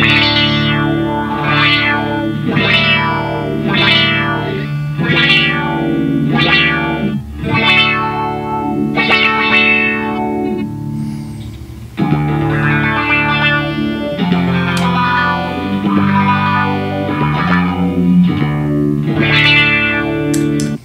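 Electric guitar notes swell through a sweeping filter with a wobbly, detuned chorus shimmer from a Zoom MS-50G pedal, played as a slow sustained line with distortion and no talking.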